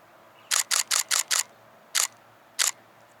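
Nikon D7100 camera shutter firing close up in a rapid burst of five crisp clicks, then two slower separate clicks as the buffer fills, with quiet background between.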